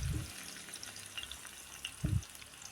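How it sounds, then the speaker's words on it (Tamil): Onions frying in oil in a pan for a chicken biryani made with keeri samba rice, a steady soft sizzle with a couple of low stirring thumps, close and fairly quiet, no talk. "இப்போ நீங்கள் வெங்காயத்தை போட்டு பொரிச்சு எடுத்துட வேண்டியதான்."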